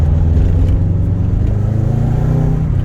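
A classic Subaru Impreza Turbo AWD cruising at low road speed, its engine giving a steady, close mid-pitched drone with a constant low rumble and slight wavering, no talk over it.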